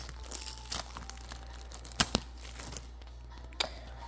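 Fruit roll-up wrapper being opened, with faint, close crinkles and several sharp crackling snaps over a low steady background hum.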